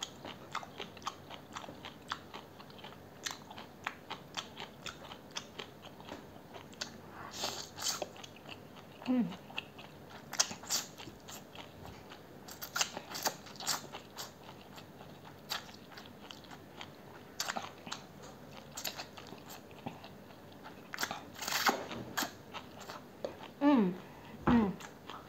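Close, crisp bites and wet chewing of a meal of spicy Indomie Mi Goreng instant noodles with Vienna sausage, egg and chicken nuggets, crunching bursts coming irregularly with soft mouth sounds between them and no talk.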